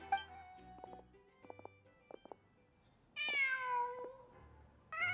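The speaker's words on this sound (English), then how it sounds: "Just a cat." A cat in the video game Genshin Impact gives a long meow after some soft game sounds and brief chimes, with a second short call starting at the very end, close and clear, with no talk.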